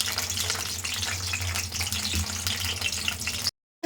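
Green chillies and onions with curry leaves frying in sesame oil, a loud, close, steady crackling sizzle that runs without a break before cutting off to silence at the end, no talking.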